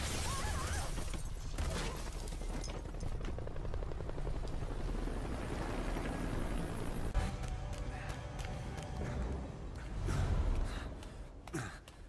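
A rescue helicopter in the Metal Gear Solid 5 video game, its rotor drone loud and steady throughout, mixed with dense game effects and a brief surge near the end.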